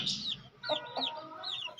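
Hens cluck in short, throaty bursts close by, a few soft calls overlapping with faint background chatter of other birds.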